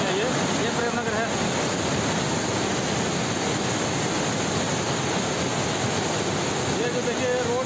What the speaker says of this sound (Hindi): बारिश के कारण बहुत ही पानी बह रहा है ऊपर से